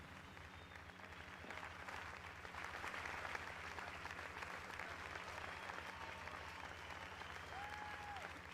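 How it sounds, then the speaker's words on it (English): Audience applause at a national stakeholder convening in Nigeria, a steady wash of clapping that holds at moderate level for several seconds, with faint background voices mixed in. "would you please, with a warm round of applause"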